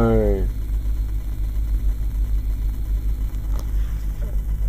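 Jeep Grand Cherokee SRT8 V8 idling with a deep steady rumble from inside the cabin, a brief rev at the start, while people talk excitedly over it.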